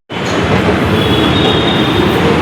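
Metro train running at a station, a loud steady rumble of wheels on rail with a thin high squeal from the wheels, continuous and close throughout.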